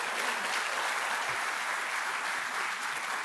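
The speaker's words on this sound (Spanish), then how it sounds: "Si le va a aplaudir a él, hágalo fuerte." A church congregation claps loudly and steadily during a sermon, the dense applause holding at an even level throughout with no speech over it.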